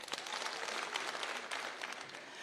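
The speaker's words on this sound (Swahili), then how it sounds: "Apigiwe makofi." Applause from delegates at a political party national conference in a large hall, a steady dense wash of clapping sustained throughout without pause.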